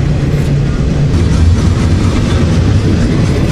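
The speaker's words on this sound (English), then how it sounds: "This one looks like it's just an actual freight train." A freight train of containers on flatbed cars rolls past on rails, a loud, close, continuous rumble with faint wheel clatter.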